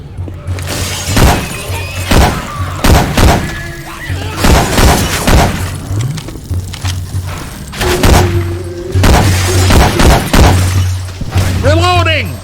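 Syphon Filter weapon sound effects modded into Left 4 Dead 2: repeated sharp, loud gunshot cracks and impacts in irregular bursts, mixed with game noise and voices talking.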